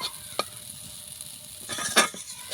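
Mung dal filling for kachori stirred and frying in a pan, a soft steady sizzle with a few sharp scrapes of the spoon, the stirring growing busier toward the end; no talking.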